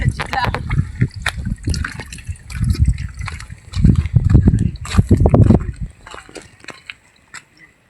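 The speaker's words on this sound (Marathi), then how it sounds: "असं याला तोंड लावून पाणी पिणं लागते मित्रांनो" On a village farm, water flows and splashes as a farmer drinks straight from the stream by mouth, a close, uneven gurgle and slosh that rises and fades.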